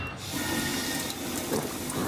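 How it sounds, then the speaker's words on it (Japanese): In the Death Stranding video game, Sam washes his face at a safe house sink: a steady rush of running tap water with splashing, continuous and fairly close. "ちょっと顔を洗いますね。"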